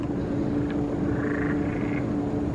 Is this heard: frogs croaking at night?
yes